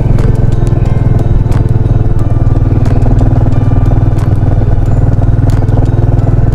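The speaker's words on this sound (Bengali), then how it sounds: "বাইক চালাচ্ছি কি করে আমি জানি না" A motorcycle is ridden through bad weather with no visibility on a mountain road in East Sikkim. Its engine gives a loud, steady, close drone with a rough, rumbling texture throughout.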